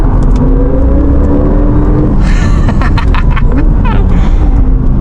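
A new electric Porsche with two motors accelerates hard on a fast road, a loud rising whir and rushing road and wind noise that sweep upward through the clip, close and continuous.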